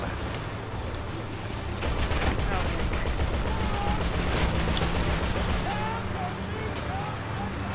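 Dense, continuous gunfire in Grand Theft Auto set in Los Santos, loud bursts and shots layered over game engine and ambient noise, with voices talking throughout.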